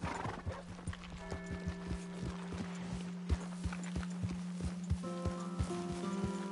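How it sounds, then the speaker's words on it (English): A horse's hooves clip-clop at a steady walking pace, each strike sharp and close, over a constant low hum with faint tonal notes; a brief neigh-like sound comes near the start. "Here's your horse back, friend."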